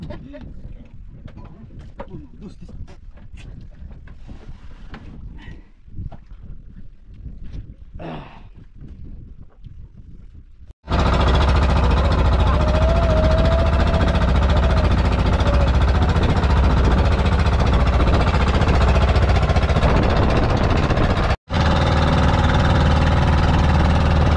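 A boat engine runs up close beside its exhaust, switching abruptly from quieter outdoor sounds to a loud, steady, rattling drone that holds, cuts out briefly once, then resumes.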